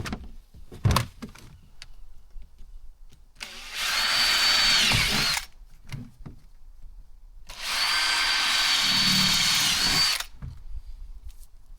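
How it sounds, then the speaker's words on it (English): A power drill whirs in two long bursts of several seconds each, drilling bridle holes in a shrimp pot, separated by quieter clunks and handling noises, close by. "Now we just sort of drill holes in it for the bridle."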